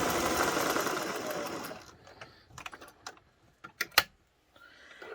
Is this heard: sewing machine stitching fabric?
yes